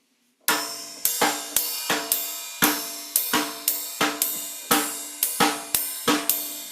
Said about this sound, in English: If we take out the 16th notes and just do the 3-note groupings on the ride cymbal